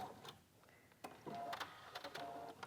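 A sewing machine stitches quilt binding with piping, heard close in short bursts of rapid mechanical whirring and ticking separated by brief pauses, fairly faint, with no voices.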